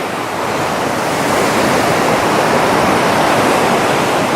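Ocean waves wash steadily onto a beach of smooth, tumbled rocks and sand, a loud, continuous roar of surf with no pauses and no voices.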